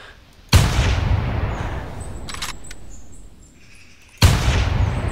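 Two loud rifle shots from a hunting rifle in The Hunter, a multiplayer hunting video game, each a sharp blast with a long rolling decay, about four seconds apart, no talk.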